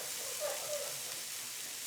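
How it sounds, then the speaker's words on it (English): Soft, steady sizzling of bananas on a very hot grill, a faint continuous hiss with a few small pops, fairly quiet and close. "onto a very hot grill. Oh, wow, listen to that sizzle."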